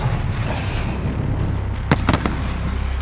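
Grenade blast in the Modern Warfare campaign, a few sharp close bangs near the end of the clip over a dense, steady rumble of battle noise, with no talk.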